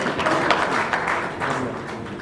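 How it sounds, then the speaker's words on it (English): A crowd at an award ceremony claps for an honoree, with dense, steady applause close and loud for about two seconds. "A round of applause for Mr. Jagbir Singh"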